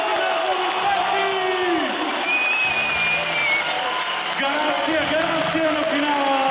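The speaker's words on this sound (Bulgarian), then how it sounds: "Важни аплодисменти!" Audience applause from a crowd, steady dense clapping that stays loud throughout, with a faint whistle-like tone and some voices mixed in.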